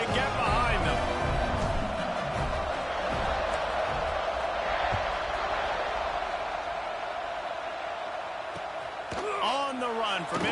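Stadium crowd in the video game College Football 26 before a kickoff, a constant loud roar of massed cheering that fills the whole stretch, with a few sharp thuds near the end.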